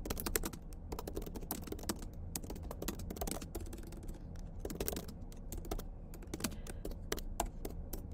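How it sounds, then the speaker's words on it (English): Typing on a computer keyboard during a live coding demo, with rapid irregular key clicks and clatter continuing in uneven bursts throughout, close and fairly quiet. "I clearly have stage fright typing for the demo."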